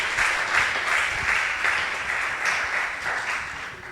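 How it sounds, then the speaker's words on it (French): Steady applause from a sizeable crowd at a round-table discussion, dense and continuous clapping throughout with slight swells, no voices standing out. "On va l'applaudir bien fort"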